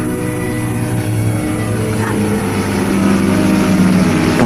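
Propeller aircraft engine drones as a damaged plane attempts to land in a Yugoslav World War II film, a loud continuous droning hum that swells slightly toward the end.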